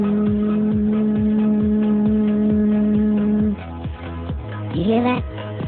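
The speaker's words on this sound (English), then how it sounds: "So let's listen and hum that note." A man hums one steady low note for a few seconds over a rhythmic musical backing track that keeps pulsing after the hum stops, then he briefly speaks.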